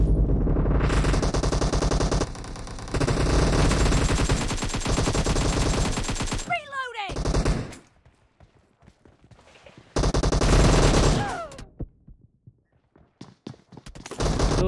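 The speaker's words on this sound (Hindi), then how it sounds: "दो दो ऑटो गन चला रहे हैं।" Automatic gunfire in the video game PUBG Mobile, long loud bursts of rapid shots followed by shorter echoing volleys, separated by brief quiet gaps.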